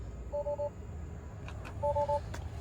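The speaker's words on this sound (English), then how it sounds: "And I've got the headlights on, so that's why it's beeping at me." Warning chime in a 2020 Tesla Model X Long Range, left on with the headlights on: two short pairs of electronic beeps, faint and close, separated by a pause, with light clicks between.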